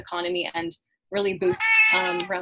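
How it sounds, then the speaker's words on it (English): A pet cat meows loudly and repeatedly in the background of a home webinar, its drawn-out calls rising over and alternating with a man's ongoing speech. "My cat has joined us for the webinar, so you might hear him in the background."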